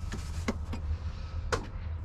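The battery switch of a box truck clicks several times in short, sharp snaps at close range, heard over a steady low idle rumble inside the cab.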